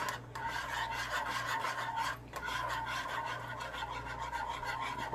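A creamy, rich sauce is stirred steadily in a pan over low heat, giving a continuous close scraping and rubbing sound with a brief pause near the start and another around two seconds.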